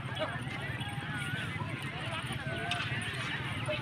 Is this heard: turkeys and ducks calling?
no